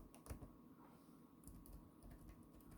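Typing on a computer keyboard, a soft run of quiet key clicks at close range with no talking over it.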